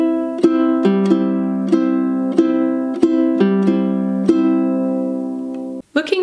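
A ukulele fingerpicks a steady, even pattern for a song, with clear plucked notes ringing in a regular rhythm at song tempo, played alone and up close, then a brief stop with a small scrape at the end.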